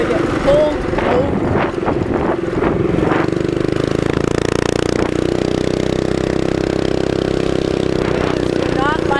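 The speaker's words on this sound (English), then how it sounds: "My muffler is fun and it is loud and it's bothering me." A minibike engine with a loud muffler, heard up close with a steady droning exhaust note under strong wind rush, joined by someone talking.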